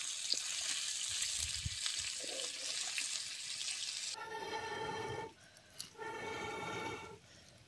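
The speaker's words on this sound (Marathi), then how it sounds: "मासं वेग नाही, तेलातच भाजून घे." Fish fry in hot oil in a pan over an outdoor wood-fired stove, giving a loud, dense, continuous sizzle that shifts partway through into a lower, more watery bubbling.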